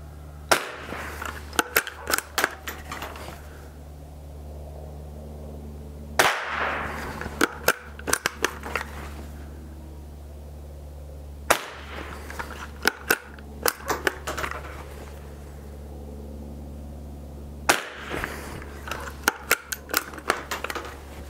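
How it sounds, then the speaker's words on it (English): Stevens No. 66 bolt-action .22 rifle firing .22 Short rounds offhand at a 7-yard target, with four sharp, fairly close cracks spaced several seconds apart, each followed by quieter clicks of the bolt being worked. "I'm going to go ahead and take 5 shots at the 7-yard target"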